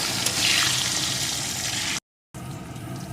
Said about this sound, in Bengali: এখন আলুটাকে লাল লাল করে প্রথমে ভেজে নেব